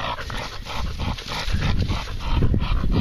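A hunting dog working through bush during a possum hunt in Christchurch, New Zealand, heard as close, rough panting and snuffling noise with dog vocal sounds, continuous and fairly loud, no one speaking.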